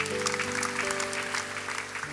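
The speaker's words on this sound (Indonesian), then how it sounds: "Beri tepuk tangan yang meriah." A church congregation claps and cheers in a steady wash of applause, loud and continuous throughout, with a sustained organ or keyboard chord beneath.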